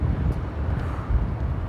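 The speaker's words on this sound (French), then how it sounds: "Il y a un peu de vent." Steady wind rumbles and buffets a microphone outdoors by the sea, a continuous low roar at even loudness with no voices.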